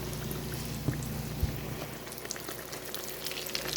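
Southern fried apple pies cook in a pan of oil with a soft, steady bubbling sizzle and a couple of faint pops and taps.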